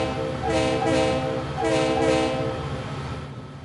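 A CSX freight train led by an old Alco RS3L locomotive passes loudly, with a steady rumble and two sustained horn blasts, each in two bursts.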